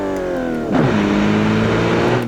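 Custom-built hypercar using 1940s-era engine technology in a video game, its engine revving: a steady, close, droning engine tone that swells as revs rise and pitch shifts, then holds loud and alone.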